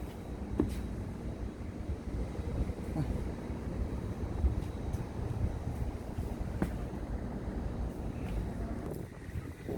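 Cold winter wind blows steadily outdoors in Hwaseong, Gyeonggi-do, South Korea, a continuous rough rushing buffeting against the microphone with occasional faint knocks.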